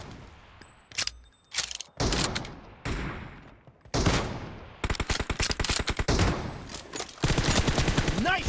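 Bursts of automatic gunfire in PUBG Mobile team deathmatch, loud rapid volleys broken by short pauses, with single shots and clicks between the strings.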